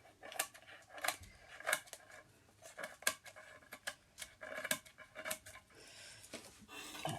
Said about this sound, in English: So I just go around and cut the excess off.